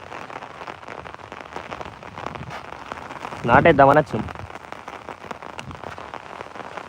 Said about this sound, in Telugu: వర్షం ఘోరంగా పడుతుంది